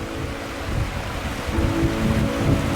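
Wind gusting steadily by a river in northern Minnesota in spring, a loud broad rushing roar with low rumbling buffeting that swells toward the end, no talking.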